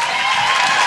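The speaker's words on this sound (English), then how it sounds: "So please, ladies and gentlemen, give them a round of applause." Loud, dense applause fills the hall at an education achievers award ceremony, a continuous wash of many hands clapping close by with a faint steady tone running beneath.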